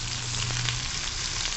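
Mashed sponge gourd sautéing in a pan, a dense continuous sizzling hiss up close, steady and fairly loud throughout, with a faint low hum underneath and no talking.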